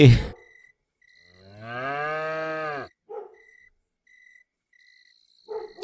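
A cartoon cow lets out a single long, loud moo lasting about a second and a half, with a steady electronic tone and short bursts of effects sounding before and after it.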